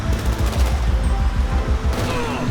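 Rapid gunfire in the zombie survival mode of GTA 5 sounds as a dense, booming fusillade of shots. A burst of fast machine-gun rattle sits near the start, and a louder volley comes near the end.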